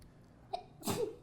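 A single loud sneeze bursts out close by, preceded by a brief sharp intake, then fades into quiet room tone.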